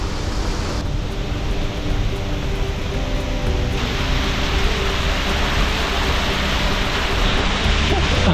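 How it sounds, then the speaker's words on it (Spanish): Steady, loud hiss of an outdoor shower running at a remote Hawaiian beach, a continuous rushing spray of water that holds throughout. "Es hora de irse a la ducha."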